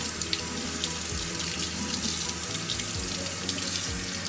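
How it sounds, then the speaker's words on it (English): Cold water from a kitchen tap runs steadily over freshly cooked beets in a sink, a close, continuous splashing rush with no talking. "It's kind of a little hot, so I like to run the cold water"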